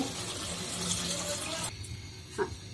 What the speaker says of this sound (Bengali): এই পর্যায়ে আমি ঝোল দিয়ে দিব।